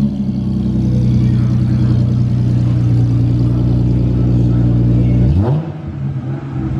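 A Lexus IS350 with a custom exhaust idles loudly with a deep rumbling exhaust, then revs up briefly near the end before settling again.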